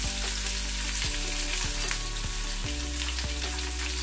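Chopped onions frying with turmeric keep up a steady, bright sizzle in the pan, broken by a few low stirring thumps.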